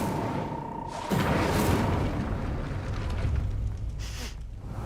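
A burst of magical fire from the Incendio spell in Hogwarts Legacy, cast to open a gate: a sudden booming whoosh that swells into a sustained roaring flame over a steady game ambience.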